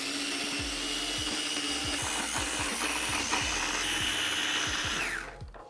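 A food processor whirs steadily as it purees cucumber with simple syrup for a soju cocktail, giving a dense, close motor drone with fast rhythmic chopping ticks for about five seconds before winding down.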